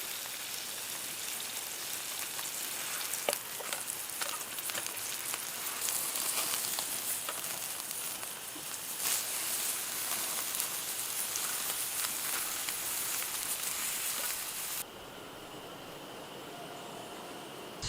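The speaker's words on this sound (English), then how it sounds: "I have a ribeye steak to cook up" A ribeye steak sizzles over a campfire outdoors, a dense, steady crackling hiss that runs continuously and fairly loud, then drops to a quieter, thinner sizzle near the end.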